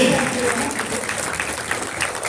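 Dense, continuous applause from a seated audience at a Tamil community stage event, a steady wash of many hands clapping at even volume with a faint voice underneath.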